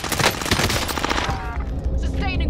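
Dense overlapping gunfire bursts from a Call of Duty match crackle close and loud, with rapid automatic rattling easing off toward the end.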